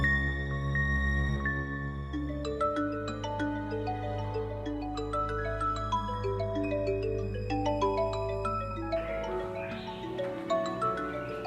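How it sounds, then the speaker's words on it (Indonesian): A mobile phone ringtone plays on its own, a continuous melodic tune of stepping electronic tones over a steady low backing, moderately loud and unbroken for over ten seconds. "handphonenya bunyi tuh."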